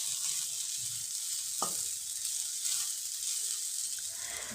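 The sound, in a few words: frying potatoes (aloo bhaja)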